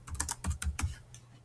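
Quick bursts of keystrokes on a computer keyboard, about eight close taps in an uneven rhythm over a second, then a pause with one light tap, fairly quiet with no voices.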